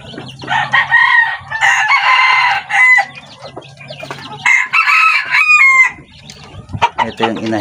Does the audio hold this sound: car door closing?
no